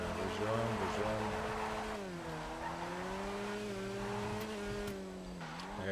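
A video game car engine drones steadily with a wavering pitch that dips and rises as the car drives, loud and continuous with faint tire noise, a voice speaking underneath.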